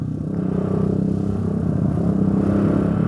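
A motorcycle engine idling after the throttle is released, a steady close pulsing rumble with slight clatter that holds on without settling down quickly.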